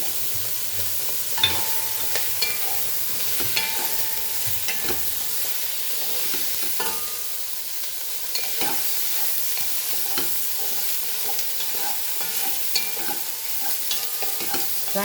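Rendered pork fat sizzling in a pan with whole masalas and bay leaves for a Goan pork pulao, a steady bright crackle with scattered pops and occasional stirring scrapes, close and continuous without talk.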